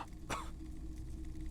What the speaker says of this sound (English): He coughs as if to mark his words.